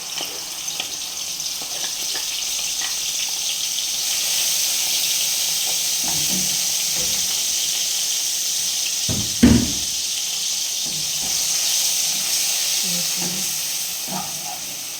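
Ground spice paste sizzles in hot cooking oil in a home kitchen, a steady hiss running throughout with soft scattered clicks and one brief louder clatter near the middle.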